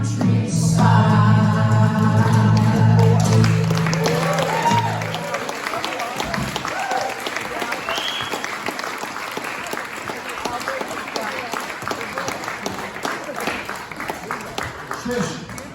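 An open mic audience breaks into loud, dense applause as a song's final chord rings out, the clapping holding strong for several seconds before thinning into lighter scattered claps and room noise.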